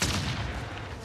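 Frag grenade detonating in an online shooter game, a dense, sustained roar of blast and rumbling debris filling the whole second with no speech over it.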